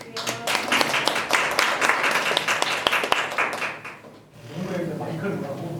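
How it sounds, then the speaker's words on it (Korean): An audience at a fashion school lecture on studying abroad claps in sustained, dense applause for about four seconds, then it fades as a voice speaks over a quieter room. "네, 박수 한번 부탁드릴게요."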